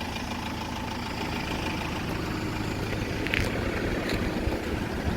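A commercial van with an automatic gearbox, recently imported from the Netherlands, idles steadily at a used-vehicle market, a low, even rumble holding for a few seconds with faint outdoor background and no speech.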